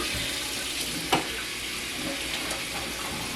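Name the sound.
water running in a kitchen sink while cleaning a shelf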